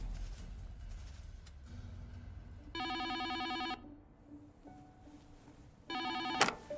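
A telephone rings in two separate bursts of electronic ringing against a quiet room with a low background hum, the second burst ending abruptly as the call is answered.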